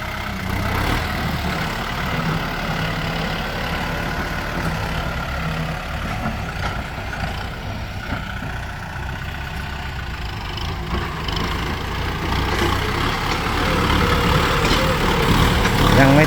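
A tractor engine runs continuously with a steady low rumble and mid-range drone, close and loud throughout, building slightly toward the end.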